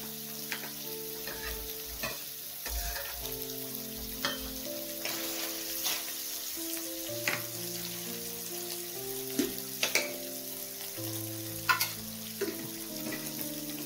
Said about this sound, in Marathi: ते पनीर छानपैकी फ्राय झालेलं आहे